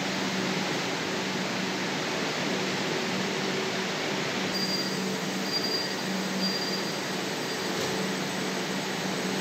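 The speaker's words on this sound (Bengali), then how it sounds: "দক্ষিণেশ্বর মেট্রো স্টেশন থেকে মেট্রো রেল ছেড়ে চলে গেল।" A Kolkata Metro train pulls out of Dakshineswar station, a steady loud rumbling roar of wheels on rail with faint high squealing tones, continuous and close throughout without voices.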